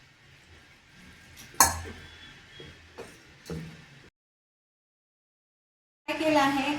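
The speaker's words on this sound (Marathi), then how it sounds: "आता आपण हे सगळं मिक्स करणार आहोत" Thalipeeth mixture with ginger-garlic paste being mixed in a bowl, soft scraping with a few sharp clinks of a utensil against the bowl, then a brief silence before more clattering.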